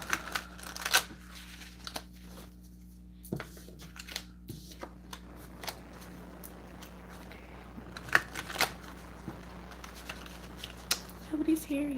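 Tarot cards shuffled by hand during a live zodiac reading, giving soft intermittent riffling and crackling bursts over a low steady hum, with quiet talk now and then.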